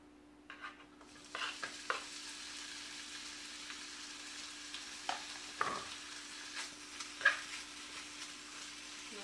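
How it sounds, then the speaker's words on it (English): Bacon is stirred in a hot wok over medium-high heat, giving a quiet sizzle with scattered scraping and clacking from the utensil against the pan. "So you're going to heat your wok or your large skillet over medium-high heat. And we're going to cook the bacon"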